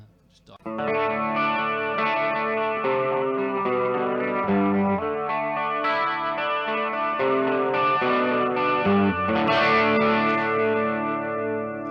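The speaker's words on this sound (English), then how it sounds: "My favourite settings on it are just sort of the standard chorus setting." Electric guitar through a chorus pedal on a standard setting, with a lush, shimmering chorus effect, strummed chords ringing out steadily and fairly loud, no voices.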